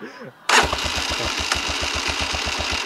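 A motorcycle engine starts abruptly and idles with a steady, rapid chugging pulse during a riding lesson, close and continuous with a slight rev midway.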